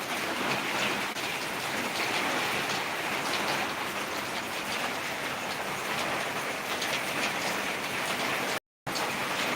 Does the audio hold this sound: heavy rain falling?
yes